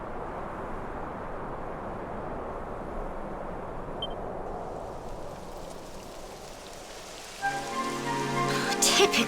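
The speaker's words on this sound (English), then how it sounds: "It would have to go and start raining, wouldn't it?" Steady rain pours down evenly and fairly loudly in the video game Dragon Quest XI, a constant hiss of drops; near the end a tonal electronic sound rises over the downpour.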